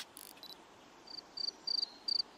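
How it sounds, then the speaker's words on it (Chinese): Crickets chirp in short repeated trills over a soft, hissy background. The bursts grow more regular and louder toward the end, with no voices. "蟋蟀代表就是无聊咯，boring"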